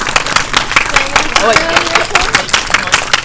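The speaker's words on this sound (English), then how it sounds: "Give us a round of applause." Audience at a film Q&A with young actors claps in a round of applause, individual sharp claps standing out in an uneven rhythm, with a voice talking over the middle.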